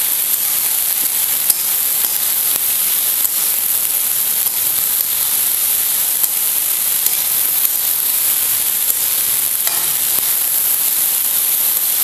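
Mixed sprouted pulses dry-roast in a pan, a loud, constant bright hiss and crackle with faint stirring ticks running through, alone without speech.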